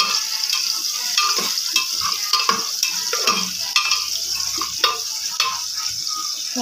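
Sizzling in a hot pan with repeated scraping and clicking of a utensil stirring bay leaves and rice, irregular taps over a constant frying hiss.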